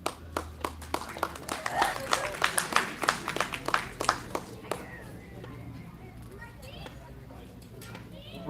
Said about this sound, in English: so a big round of applause to him